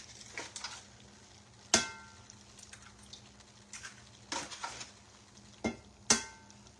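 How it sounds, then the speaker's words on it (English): Food frying in a hot pan while someone stirs it, with a soft steady sizzle and a few sharp metallic clinks of the utensil against the pan at intervals. No talking. "I try to get it hot. And I stand there and stir them to cook them."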